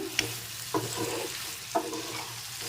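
Potato curry with homemade spice paste being stirred in a pan for achari aloo dum: scraping spoon strokes at a steady pace over a soft sizzle, close and moderately loud, with no talking.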